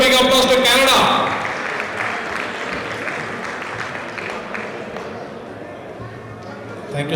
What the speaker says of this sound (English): Give a big applause to Canada.